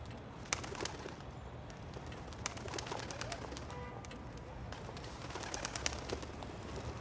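Pigeons coo softly at a distance over steady low ambient noise, with scattered faint clicks and flutters throughout.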